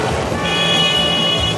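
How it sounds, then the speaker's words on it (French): A car horn honks in a sustained toot over dense, loud road traffic on a busy street in Cameroon. "Voilà, on klaxonne ici."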